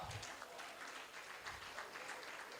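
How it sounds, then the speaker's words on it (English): Inductees at an induction ceremony clap together in a steady, dense wash of applause that holds fairly even throughout, with no talk over it. "I want you all to clap"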